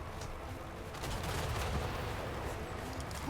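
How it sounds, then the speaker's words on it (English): Rumbling bombing-run blasts and crackling gunfire-like bursts roll continuously in a combat video game, dense and steady for a few seconds with no talk over them. "Bombing run coming in."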